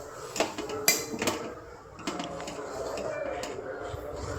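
Papaya and carrot are stirred in a cooking pot, giving soft scattered clinks and scrapes of a utensil against the pot, with a steady low background sizzle throughout.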